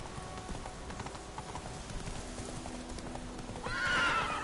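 Horse galloping in The Witcher 3 video game: steady rapid hoof clip-clop over a soft, rain-like wash, ending in a louder whinny near the end, with no talk.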